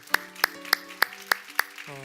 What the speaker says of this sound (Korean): 다시 한번 우리 하나님 앞에 감사의 박수 올려드리도록 하겠습니다